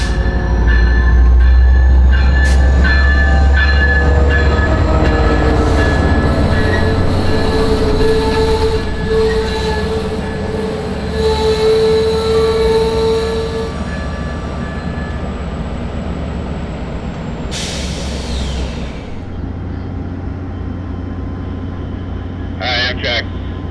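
Amtrak Piedmont passenger train with 1960s-era cars running, heard from onboard as a steady loud rumble of wheels on rail, with a long horn tone and a brief squeal of wheels near the end.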